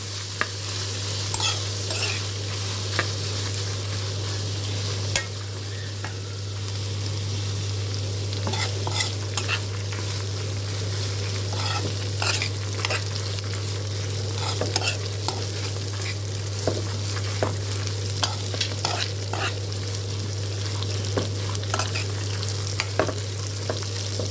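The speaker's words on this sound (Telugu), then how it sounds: "పచ్చిదనం పోయి కొంచెం వేగాలి ఫ్రెండ్స్." Food frying in a pan while being stirred, a constant close sizzle broken by frequent scraping strokes and clinks of the spoon, with a low steady hum underneath.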